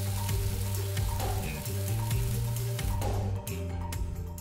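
Pork loin chops brushed with barbecue sauce sizzle and fry in a pan, a steady close crackle with occasional louder pops, heard alone.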